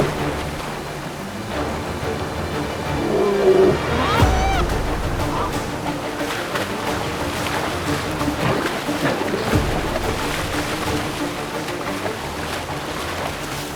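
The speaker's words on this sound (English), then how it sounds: "Rapids." River rapids rushing in a continuous loud wash of turbulent water, with a deeper surge partway through and faint voices in the background.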